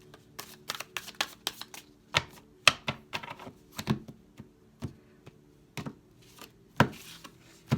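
Irregular crisp clicks and riffling snaps of tarot cards being shuffled and tapped, close up, in quick bursts with short pauses between.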